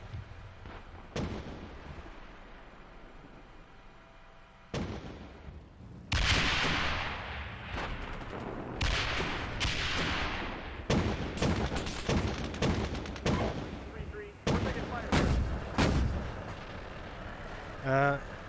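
Gunfire and heavy artillery blasts in the tank simulator Steel Beasts Pro PE 4.1, with sharp booms and rattling shots arriving in irregular bursts, some close and loud, as voices talk over the radio.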